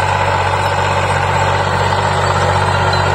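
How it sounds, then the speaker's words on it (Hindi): Tractor engine in a Punjab village field pulling a suhaga leveling plank, a loud, steady, low diesel rumble with a constant droning hum, close by and uninterrupted throughout. "ये ट्रैक्टर है"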